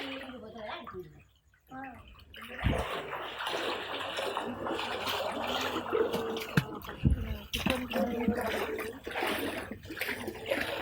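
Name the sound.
water splashing in a flooded street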